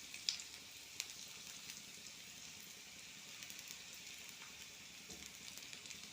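Chopped onion frying in oil in a pan for fried rice, a steady soft sizzle and crackle throughout with a few brief pops, fairly quiet and close.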